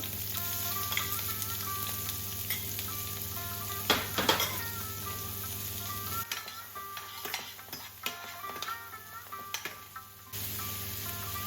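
Chopped onion with slit green chilies sizzling in hot oil in a pan for Bengali mustard fish curry, a steady soft fry with occasional stirring clinks and a constant background hum.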